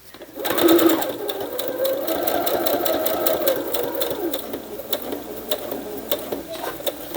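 A sewing machine running a straight stitch through fabric for junk journal pockets, a close, steady mechanical whir with rapid rhythmic needle clatter that starts abruptly and continues throughout.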